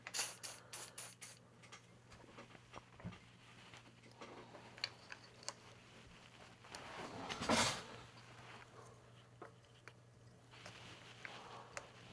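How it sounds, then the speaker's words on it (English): A single short hiss of aerosol spray onto a bike part, close by, standing out against faint clicks and handling noises in a quiet room. "It probably wants a little bit of a spray."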